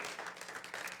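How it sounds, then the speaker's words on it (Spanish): A church congregation applauding, a short burst of dense, fairly faint clapping from many hands. "¿Cuánto le pueden dar un fuerte aplauso al Señor?"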